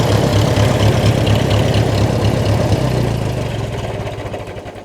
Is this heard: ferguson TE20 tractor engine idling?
yes